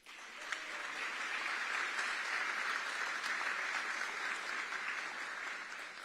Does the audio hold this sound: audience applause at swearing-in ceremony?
yes